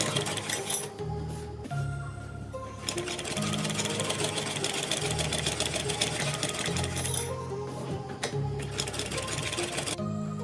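A sewing machine stitching along a kurti neckline, working in repeated bursts of fast rattling needle action with short pauses between runs, close and clear.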